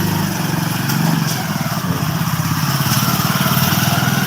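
A tractor engine chugs close by with a steady, throbbing low rhythm as it passes through a village. Its pitch shifts slightly as it moves. No one speaks.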